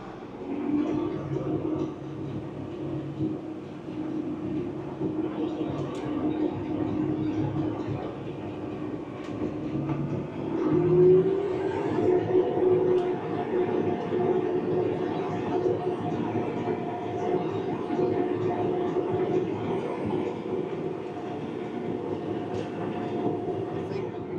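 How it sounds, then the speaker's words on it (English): Steady drone of a Case IH 600 Quadtrac tractor engine heard from inside the cab, a continuous low rumble with a tonal hum holding level throughout, with faint background voices. "I think the 600 Quadtrac is probably a little bit louder than the John Deere 9RX."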